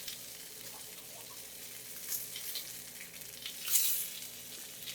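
Tomatoes roast in a hot pan with a soft, steady sizzle and occasional crackling pops and stirring scrapes, close but fairly quiet, with no talk.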